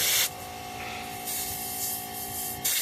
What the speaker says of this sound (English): One thing we can do with this air compressor is paint these hubcaps black.